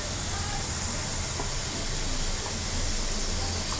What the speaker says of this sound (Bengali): এখন পেঁয়াজগুলো দিয়ে দিচ্ছি।